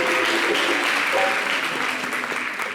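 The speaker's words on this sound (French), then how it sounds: "On l'applaudit." Studio audience on a French local TV set applauds steadily, a dense wash of clapping that fills the whole stretch and tapers slightly toward the end, with a faint voice briefly audible underneath.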